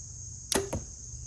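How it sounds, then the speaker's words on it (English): A heavy 600-grain arrow is shot from a bow into a target bale at 10 yards: a sharp release snap followed a split second later by a dull thud of impact, alone over quiet outdoor background. "So now that I shot one arrow, just to get a feel, we know how it's working."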